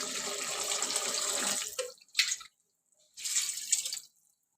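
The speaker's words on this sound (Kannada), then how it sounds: "ಈಗ ಇದಕ್ಕೆ ಸ್ವಲ್ಪ ನೀರು ಸೇರಿಸ್ಕೊಳ್ಳೋಣ" Water is poured into a pan of fenugreek pepper chicken frying in oil, a sizzling splash lasting nearly two seconds, then a brief spurt and another hissing pour after a short silence.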